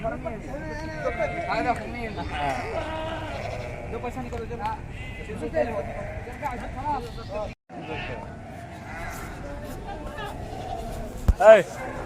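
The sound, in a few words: goats bleating at a goat market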